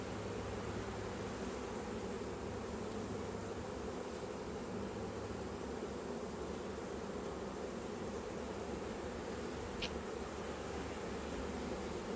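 Honeybees from a captured swarm humming faintly inside a hive box, a soft, steady, continuous buzz with no voices.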